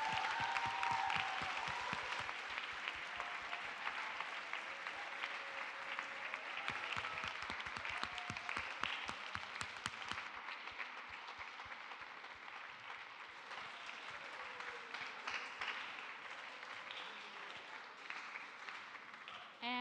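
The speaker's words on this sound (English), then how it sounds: "All right, one more round of applause for Jami." Sustained applause from a sizable audience at a senior presentation, steady rapid clapping that gradually thins and softens toward the end.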